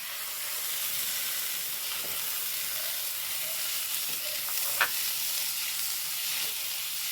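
Tomatoes dropped into a pan of well-sautéed onions for a breakfast masala, frying with a soft steady sizzle and occasional scrape of stirring, moderately quiet and close, no talking.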